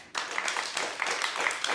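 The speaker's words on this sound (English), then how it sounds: "Clap if you saw." A short burst of studio audience clapping, a brief scattered patter of hands from a modest crowd, close and moderately loud, with no speech over it.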